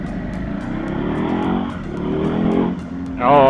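A 2021 Ducati Hypermotard 950 motorcycle rides through city traffic, its engine a steady, close rumble that rises and dips with the throttle before revving more sharply at the end.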